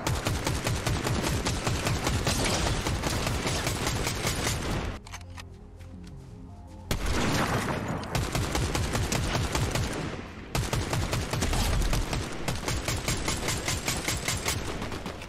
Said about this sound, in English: that's when we really start to tear them up with this Nemesis AR